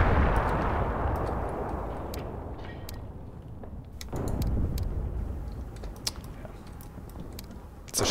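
Mortar strike in the war game Graviteam Tactics: a heavy blast rumbles and decays, followed by scattered sharp cracks and small pops of fire, with a second dull thud midway, moderately loud throughout.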